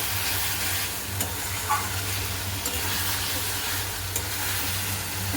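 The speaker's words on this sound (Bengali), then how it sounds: "ঝোল কষানো চলছে" Fish curry sauce sautéing with spices in a pan, a continuous bubbling sizzle with a low steady hum underneath and occasional faint stirring taps.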